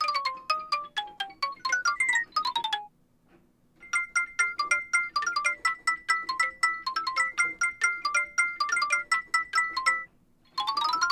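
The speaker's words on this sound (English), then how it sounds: "I don't know how that is the coin sound, but it is." Bright chiming electronic tones of the Monster Sanctuary game coin sound, in quick runs of short blips, with a brief pause, then a steady sequence of repeated pinging chimes.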